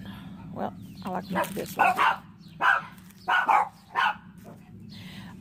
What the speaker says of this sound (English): I do apologize for the dogs barking if that bothers anyone.